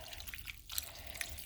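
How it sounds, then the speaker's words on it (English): Chicken broth poured over vegetables in a slow cooker for cheeseburger soup, heard as soft trickling and splashing liquid with a few brief drips, close but fairly quiet. "now I'm going to just pour the chicken broth right over the top of the"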